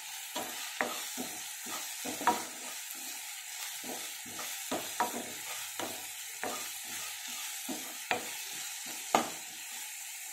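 Brinjal and green peas fry in a pan with salt, a soft sizzle running under regular scraping strokes of a spoon that repeat roughly every half second.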